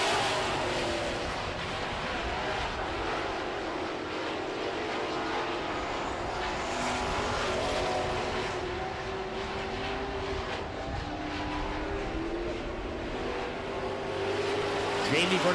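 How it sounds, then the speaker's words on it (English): Super trucks race on a track late in a heat, engines roaring in a continuous, fairly loud drone. Traffic passes through the whole stretch while an announcer talks over it. "The Searcy Super Trucks on the track with 3 laps to go."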